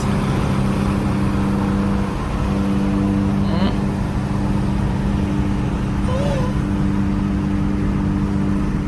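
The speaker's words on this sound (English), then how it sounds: "Oh shoot, that supercharger. Oh, it's charging up." A car supercharger spooling up in a video game, heard as a continuous engine drone with a rising whine. An excited voice talks over it at times.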